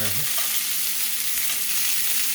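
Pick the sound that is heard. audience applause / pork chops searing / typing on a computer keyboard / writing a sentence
pork chops searing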